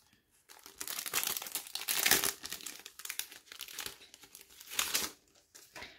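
A small paper card is opened by hand, giving close, steady paper crinkling and rustling for several seconds with a few louder crackles, and no talking.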